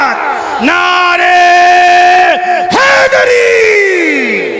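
A massed congregation at a religious bayan thunders its chanted answer to the Nara-e-Haidari call, loud and close, holding one long unified shout before a second surge of voices rises and slowly fades.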